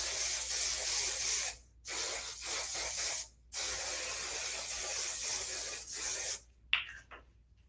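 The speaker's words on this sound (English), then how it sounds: "Again, spraying the top layer with the same Moroccan oil" Moroccan oil hairspray sprayed onto the top layer of hair in repeated hissing bursts, several long sprays broken by brief pauses, close and clear with no talking.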